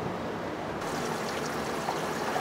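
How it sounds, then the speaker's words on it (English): Water flowing into an evaporative cooler as its solenoid valve opens to fill the unit, a steady close trickling and rushing with no talk, rising slightly partway through. "our solenoid valve just got energized. So now the cooler is going to fill with water."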